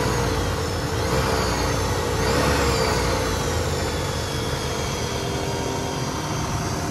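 A 1988 Cadillac Brougham's large, 140-horsepower engine runs steadily, giving a continuous low rumble with a faint whine over it, even and unbroken throughout.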